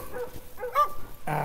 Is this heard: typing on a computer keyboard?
no